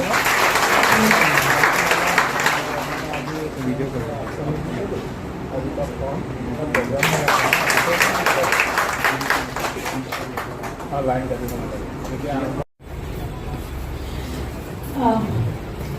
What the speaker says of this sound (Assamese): সকলোকে হাত চাপৰি দি